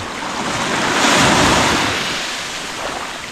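Ocean waves and wind rush continuously and loudly around a boat out at sea for night net fishing, the roar swelling and then easing slightly.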